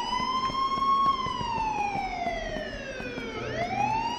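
Police siren in the video game Hoarding Simulator, a loud wailing tone sliding slowly down and back up, steady and prominent over low background noise.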